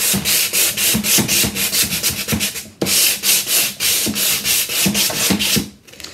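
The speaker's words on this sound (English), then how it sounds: "This is a sanding block. You just put a piece of sandpaper on" A sandpaper sanding block rubbed over chalk-painted furniture, loud rhythmic back-and-forth scraping strokes in a steady run, pausing briefly midway and trailing off at the end.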